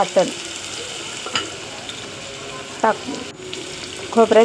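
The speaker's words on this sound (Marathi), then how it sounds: "वाटण टाकून चांगल्या प्रकारे परतून म्हणजे कडेने तेल सुटेपर्यंत परतून घ्यायचे" Chilli and coconut paste sautéing in oil in a pan, a steady soft sizzle with a few sharp scraping stirs of a spoon against the pan, close and alone.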